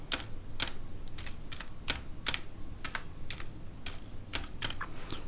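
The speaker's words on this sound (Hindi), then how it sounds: "वहाँ पर टाइप करना है" Steady typing on a computer keyboard while entering a website address, with quick clustered key clicks and occasional louder taps, close and continuous over low room hum, with no talking.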